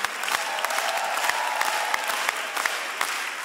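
Audience at a Los Angeles Armenian music concert clapping for a singer, a brisk, continuous round of applause with a few sharper individual claps standing out.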